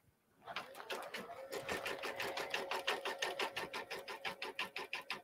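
A sewing machine stitches a quilt with a rapid, steady mechanical clatter that starts after a short pause and keeps an even rhythm, close and alone.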